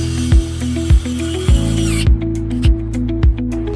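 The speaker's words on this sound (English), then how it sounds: "Tighten the screw that secures the GND wire." Screw being tightened on the ground wire of a Tesla Model Y steering wheel, a power tool whirring steadily with six regular ratcheting clicks, close and loud, no talking.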